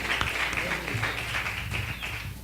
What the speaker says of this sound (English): Big round of applause for Natasha Muse and Kasim Bentley.